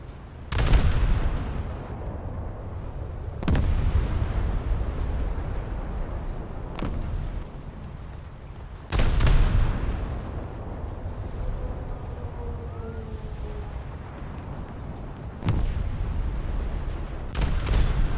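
Heavy explosions from torpedoes detonating on an enemy ship in a naval video game, several booming bursts spaced a few seconds apart over a continuous low rumble, loud and close with no talking.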